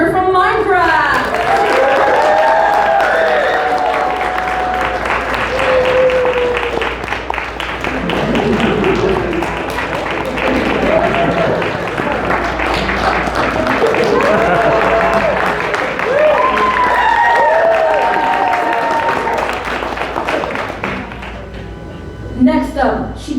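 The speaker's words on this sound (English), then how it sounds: "I want you to clap your hands together" Sustained audience applause and clapping at a cosplay contest, continuous and loud for over twenty seconds, with scattered cheers and voices calling out over the crowd noise.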